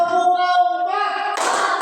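A class of pupils claps hands together on a teacher's counted command in a school classroom; a sustained tonal sound gives way to a dense, loud burst of clapping near the end.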